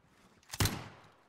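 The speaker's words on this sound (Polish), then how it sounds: "To też koło mnie strzały lecą." A single sharp gunshot in the video game Call of Duty: Warzone bursts out and decays quickly, standing alone against a quiet background.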